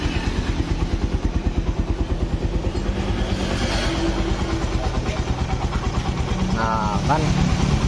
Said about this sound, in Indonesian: kan udah lembut kembali mesinnya nih